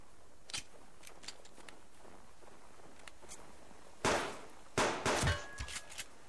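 Gunfire in the survival game Subsistence: faint distant shots early, then several louder sharp cracks close together near the end, with quiet ambience between.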